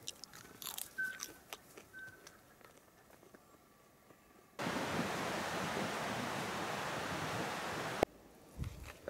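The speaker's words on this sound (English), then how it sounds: "These fuchsia flowers actually taste pretty good." Someone outdoors chewing crunchy fuchsia flowers, with close, crisp crunches and bites at first, then a loud steady rush of wind-like noise that masks the chewing for several seconds.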